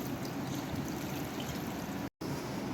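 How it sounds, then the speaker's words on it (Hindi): Water poured into a cooking pot over leafy senghat greens in a home kitchen, a steady close splashing and trickling stream that runs on unbroken with a brief cut near the end. "ये पानी डाल दूँगी मैं इसमें"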